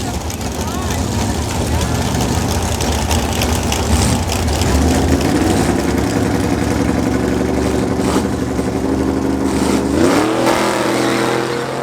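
Stick-shift drag car launching off the starting line, engine revving hard and climbing through a gear shift with a loud, steady roar close by, easing off near the end.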